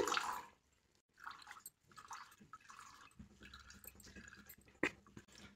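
Faint dripping and squishing as water is pressed out of fresh homemade paneer, with soft trickles and a few small splashes spread irregularly across a quiet background.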